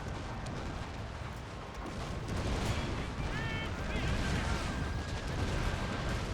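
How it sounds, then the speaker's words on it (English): Artillery bombardment on a battlefield in the video game Fall of the Samurai, a continuous rumbling roar of distant barrage fire that swells louder midway, with a voice talking over it. "just drop the bombardment down here."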